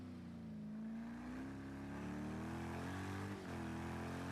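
A GTE race car in an endurance sim race at Spa, its engine held at high revs in a steady, droning whine that wavers slightly in pitch, loud and continuous with no talk.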